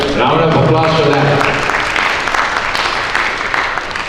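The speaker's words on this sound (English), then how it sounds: "Round of applause for that." Audience applause at a conference session, a dense wash of clapping under a voice at the start that carries on steadily for a few seconds.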